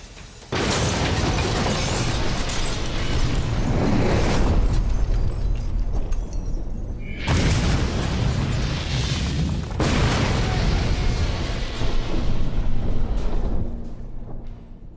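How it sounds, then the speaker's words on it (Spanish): A small homemade bomb explodes inside a modern car, bursting out loud, followed by a long roaring rumble of debris and blast noise, with a second heavy burst partway through. "Lo ha destrozado por completo y la explosión no ha sido muy grande"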